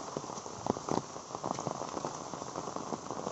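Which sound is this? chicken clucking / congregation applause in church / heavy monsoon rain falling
heavy monsoon rain falling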